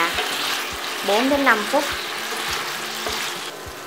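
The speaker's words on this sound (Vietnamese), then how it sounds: "các bạn sẽ xào khoai tây cà rốt với mức lửa trung bình" Potatoes and carrots stir-frying over medium heat in a pan, a steady close sizzle with periodic knocks of a utensil stirring, while someone speaks briefly over it.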